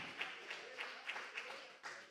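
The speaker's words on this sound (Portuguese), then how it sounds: "Você pode aplaudir ao Senhor pela vida deles." A small church audience claps in praise during a Thursday celebration service, about seven evenly spaced claps, faint and roomy, with soft murmuring in the background.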